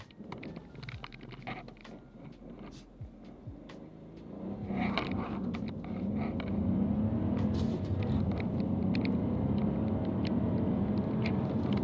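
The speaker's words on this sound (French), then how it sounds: "Est-ce qu'on pourrait pas faire un petit départ arrêté là vite fait pour voir ce que ça donne?" A Ford Focus with a manual gearbox revs up and pulls away hard from a standing start, its rumble swelling and staying loud and steady as it accelerates.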